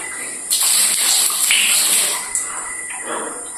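Water gushes and splashes steadily at close range, a continuous broadband rush that swells and eases slightly, with no talking over it.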